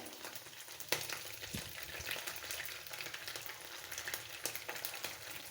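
Fried onion, fried garlic and nut paste frying in a pan for a Bangladeshi broiler chicken dish, a steady close sizzle with faint utensil scrapes throughout.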